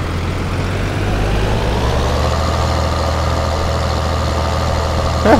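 A tractor engine in Farming Simulator 2013 drones steadily at idle, a loud, low, continuous rumble with no break, the machine hauling a trailer.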